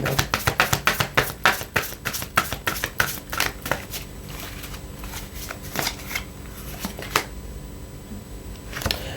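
Tarot cards are riffled and shuffled in quick rapid bursts, then slow to scattered single snaps and slides as a card is drawn, close and clear with no talking.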